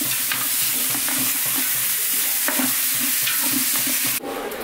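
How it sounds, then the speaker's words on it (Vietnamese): Offal is stir-fried in a hot pan, giving a steady sizzle broken by repeated scraping and tossing strokes, close and fairly loud, with no talk. "Xào lòng lòng ạ."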